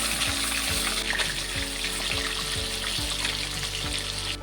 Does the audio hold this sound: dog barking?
no